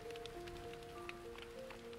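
Raindrops fall softly on tree leaves and the ground, a faint, gentle patter with scattered tiny taps under soft tonal background music, no talking.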